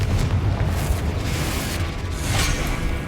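Confringo fire spell explosions in the video game Hogwarts Legacy, a continuous booming, rumbling blast with whooshing bursts, loud and dense throughout.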